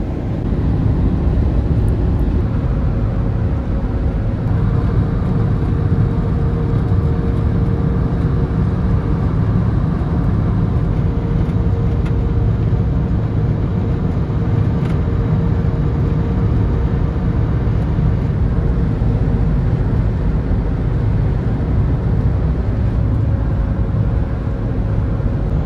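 A car cruising on a highway toward Spokane, heard from inside as a steady, loud low rumble of road and engine noise that continues unbroken throughout with no talk.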